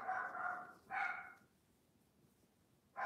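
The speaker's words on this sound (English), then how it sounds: "He's just barking at the wind." A dog barks outdoors in the countryside, two quick barks followed by a pause and another bark, all faint and distant.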